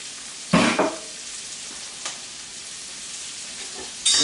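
Diced jalapenos, two peppers' worth, hit a hot pan with a brief loud burst of sizzling that fades quickly, followed by a faint background hiss, a small click and another sharp sizzle at the end.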